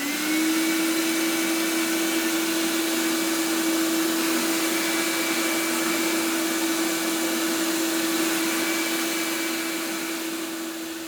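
A rewired cyclone vacuum cleaner runs steadily at close range, a constant loud motor whine with a strong steady tone and broadband airflow rush, holding even throughout and easing slightly at the very end.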